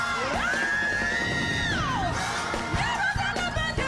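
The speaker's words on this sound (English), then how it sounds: "And these screams." An audience screams and cheers at a live gospel concert, a loud sustained whoop rising over crowd noise, with shouting and music beneath.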